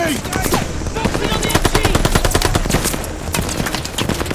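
Sustained rapid machine gun fire in the Call of Duty: Vanguard campaign, a dense rattling burst of shots close and loud, continuing for several seconds with battlefield noise around it.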